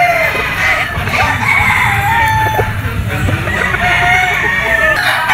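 Claret white leg gamefowl roosters crow repeatedly on a gamefarm at Mount Banahaw, several calls overlapping near and farther off, with clucking from other fowl in between.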